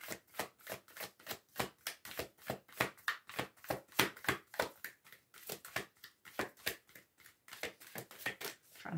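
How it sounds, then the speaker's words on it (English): A deck of tarot cards is shuffled by hand in quick repeated bursts, sharp riffling slaps and flutters close to the microphone in an uneven rhythm over several seconds, with no talking. "Trying to shuffle and it's not even moving."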